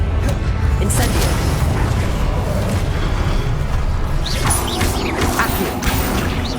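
A fire spell cast in the video game Hogwarts Legacy, heard as a dense roaring burst with crackling and whooshing layered over continuous loud game effects and mechanical clatter throughout.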